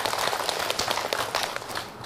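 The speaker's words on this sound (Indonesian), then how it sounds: "Tepuk tangan buat guru kita, Habib Muhammad Syahab." A studio audience applauds a religious teacher, Habib Muhammad Syahab, on an Islamic TV talk show, with dense continuous clapping close up that holds steady throughout.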